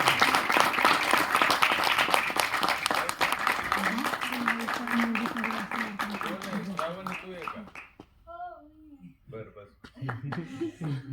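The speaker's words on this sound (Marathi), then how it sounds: "श्रावणी राजगुरू, जोरदार टाळ्या" Loud crowd applause at a college event fills the first several seconds, dense and continuous, with voices speaking over it before it thins out and speech takes over.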